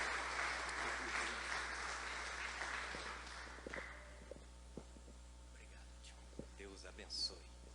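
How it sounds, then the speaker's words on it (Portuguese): Congregation applauding inside a church during a Sunday service, a broad wash of clapping that fades after a few seconds into a quiet room with scattered small sounds. "E dê um aplauso para o nosso Deus"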